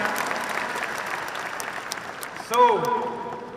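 Audience applause at a success-day event in Delhi, a dense steady patter of many hands clapping, with a voice briefly rising over the crowd near the end.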